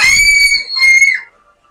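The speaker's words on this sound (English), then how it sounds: "Don't scream." A person lets out two loud, high-pitched screams in quick succession, the second trailing off into quiet, close and alone.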